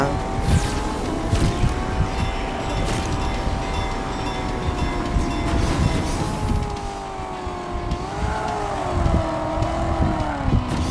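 Video-game race car in Ace Racer, a slow support-type car, driving continuously with a steady engine drone whose pitch rises and dips, loud and close with no talk.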